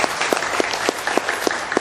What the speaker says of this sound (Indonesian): Tepuk tangan buat Purtir.